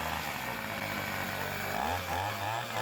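A small trimmer motor fitted to a homemade motor bike runs loudly and close by, giving a steady buzzing drone whose pitch shifts slightly partway through.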